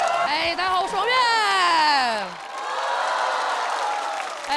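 A stand-up comedy audience claps and cheers steadily in a live venue, beginning under a performer's speaking voice, which then stops while the applause carries on alone.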